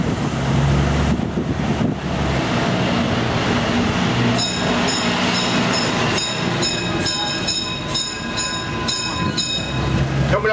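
A Key West city tour train rolls along with a loud continuous rumble and rattle of its cars, mixed with street noise and intermittent ringing tones.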